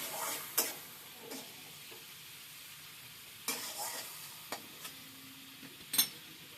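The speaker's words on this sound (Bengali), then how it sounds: "চিংড়ি মাছটা অল্প করে হালকা করে ভেজে নেব" Prawns with turmeric and salt frying lightly in oil: a faint, soft sizzle with scattered clicks and taps of stirring, close but quiet, with no talk.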